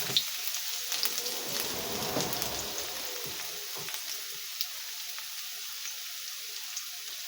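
Pechay greens and garlic hit very hot cooking oil in a home kitchen, opening with a bright crackling burst that soon settles into a softer, steady sizzle with scattered pops.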